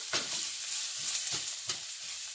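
Garlic sizzles steadily in a hot pan for a beef afritada, with a constant close hiss and a few scraping strokes as it is stirred.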